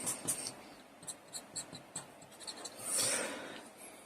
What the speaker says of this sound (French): je vais pouvoir dessiner des yeux